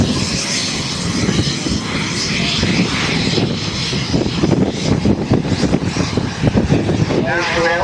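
Model aircraft engine at a Cosford model show, a steady loud drone building as the plane takes off, with crowd noise and voices underneath throughout.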